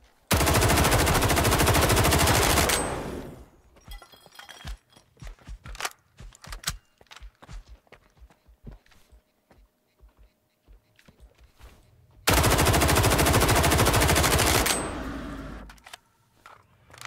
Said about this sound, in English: Yeah, they're definitely having a battle outside.